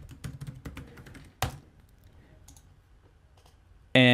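A wallet password is tapped out on a computer keyboard: a quick burst of light key clicks, then sparse single taps, ending in a sudden louder tone.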